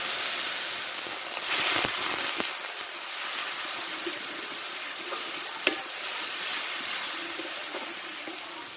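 Coriander and chili powder masala frying and being stirred in a pan, a steady close sizzle with scraping stir strokes and occasional sharper clicks of the spatula against the pan, no voices.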